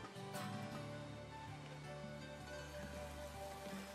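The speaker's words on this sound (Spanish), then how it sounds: "Llueve." Steady rain falls in the video game Pokémon Scarlet, an even patter of drops over a low sustained musical drone, with no talking.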